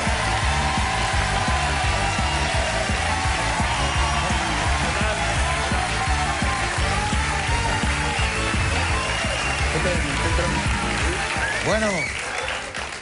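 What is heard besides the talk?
TV studio audience applause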